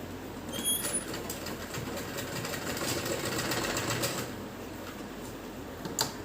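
A sewing machine runs a line of stitching over a flattened seam while tailoring a kachchha undergarment, giving a steady, close, continuous mechanical whirr with a light rattling texture throughout.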